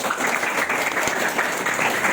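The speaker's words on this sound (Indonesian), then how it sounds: "tepuk tangan buat saya" Steady, dense clapping from a group fills the whole stretch at an even level, with no voices standing out.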